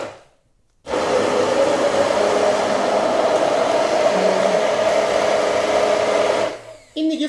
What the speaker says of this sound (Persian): دستگاه رو روشن میکنم حتما و بعد روغن رو کم کم بهش اضافه میکنم